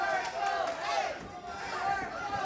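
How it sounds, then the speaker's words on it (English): A wrestling crowd at a live tag-team match chants steadily in unison, a loud rhythmic roar of many voices filling the arena without pause. "Now we got Purple Haze chants."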